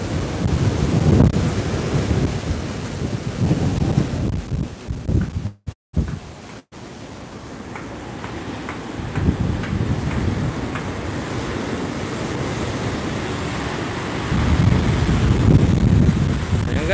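Large waves pound the shore in Bicol during Typhoon Opong, a continuous roaring surf with heavy wind buffeting the microphone, swelling in loud surges with brief dropouts.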